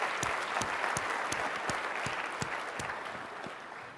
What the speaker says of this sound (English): How about a round of applause for Cisco and HP for last night?